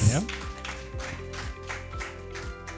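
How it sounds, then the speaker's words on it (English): A small audience at a talk claps in a steady, even rhythm of sharp claps about every half second, over a low sustained hum. "Let's clap for that"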